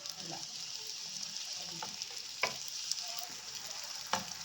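Pani puri dough discs frying one by one in hot oil, a soft continuous sizzle with occasional sharp crackles and pops, fairly quiet and close, no talking.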